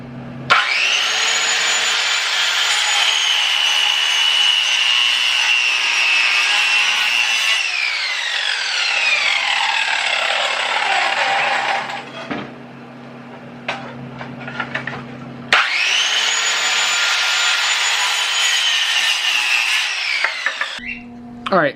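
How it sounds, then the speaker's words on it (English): Wood is cut for a paludarium build with a saw, heard as loud, close, sustained whining passes with a pause between them and a few knocks in the gap. "I'm gonna cut this wood."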